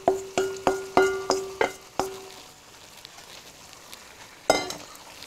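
Noodles stirred in a hot wok, six or seven sharp rhythmic clanks of a metal spatula against the pan over a quiet sizzle, then a pause and one more strike.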